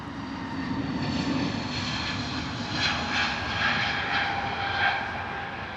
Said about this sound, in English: Amazing, incredible departure there from the British Airways A320.